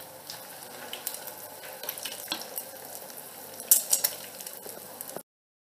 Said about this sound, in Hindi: फ्राई पैन में हम इसे फ्राई कर लेंगे।